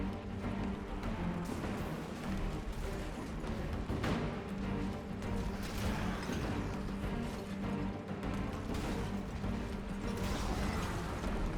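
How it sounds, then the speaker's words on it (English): Winch mechanism in Diablo 4 grinding and creaking, with ratcheting clicks and metallic clanks over a steady mechanical rumble, close and continuous for the whole stretch. "Found a winch."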